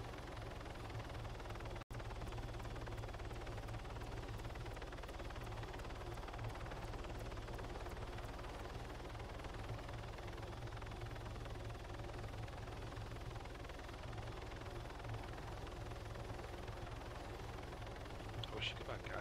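A helicopter in an online video game gives a continuous low rotor drone that stays steady and fairly faint from start to finish.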